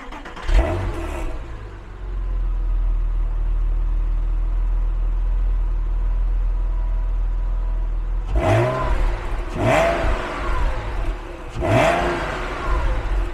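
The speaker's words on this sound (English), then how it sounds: "Hear that exhaust, that sport exhaust that you get on this anniversary edition." A 2004 Porsche Boxster S 550 Spyder anniversary edition with sport exhaust idles with a low steady drone, then three sharp throttle blips rise and fall in quick succession, loud and close.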